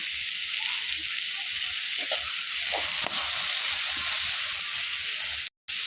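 Onion and tomato sizzle and fry in hot oil in a home kitchen, a steady close hiss broken by a few stirring scrapes, with no talk over it.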